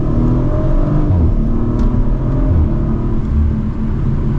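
A 2023 Audi RS5 Coupe Competition pulls mildly from second gear, its engine and exhaust making a steady, dense low rumble and drone heard from inside the cabin, with no talk.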